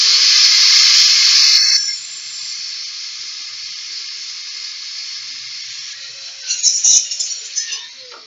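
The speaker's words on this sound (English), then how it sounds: "Take some blower or something which is a little bit faster, like I have it." Compressed air hisses loudly and close as a blower cleans a PlayStation 3 disc drive, a strong burst that drops to a fainter steady hiss, then a few brief sputtering puffs near the end.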